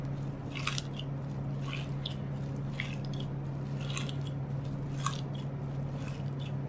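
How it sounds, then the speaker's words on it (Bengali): Boiled potatoes are mashed and mixed with coriander leaves for aloo bhorta, giving soft, repeated squishy squelches at a slow, regular rhythm over a steady low hum. "আলু দিয়ে ভালোভাবে চটকে নিয়েছি, আর কিছু ধনিয়া পাতা দিয়ে এর সাথে মিক্স করে দিচ্ছি।"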